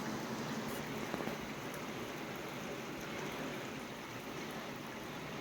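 Heavy thunderstorm rain ending a drought and drenching garden plants, a dense, continuous hiss of falling water with a few louder drips, steady throughout and without voices.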